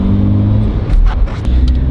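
A Honda Jazz engine with a DIY intake mod revs up into VTEC. It starts as a throaty, tonal drone, then breaks into a loud, rough, rising intake roar heard up close.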